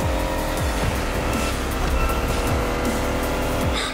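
An electric car in the racing game The Crew Motorfest surges forward, with a loud continuous drive whine, tire squeal and repeated passing swooshes, no talk.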